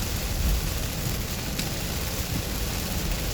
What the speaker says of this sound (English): probably too much rain to be driving with no traction on